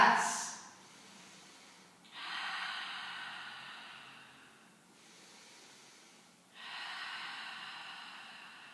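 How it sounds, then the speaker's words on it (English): Two slow deep breaths during a gentle yoga session, each a long airy inhale or exhale heard close and soft, separated by quiet pauses. "we're going to take 3 big breaths"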